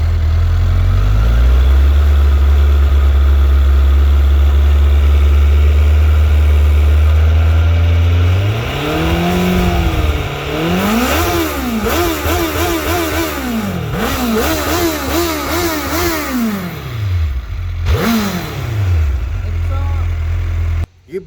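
An older Suzuki Hayabusa motorcycle idles with a deep, steady exhaust note, then is revved repeatedly in rising and falling sweeps before settling back to idle, loud and close.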